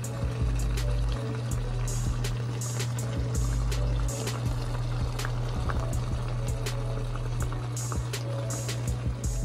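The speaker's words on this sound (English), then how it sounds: "then I'll add some hot water to the chicken" Hot water pouring and bubbling into a sizzling pan of browned chicken for brown stew chicken, a steady liquid rush with crackling pops throughout.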